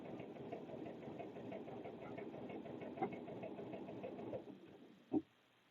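A serger stitches a knit neckband with a steady, fast mechanical whir and chatter for several seconds, then stops, followed by a single sharp click.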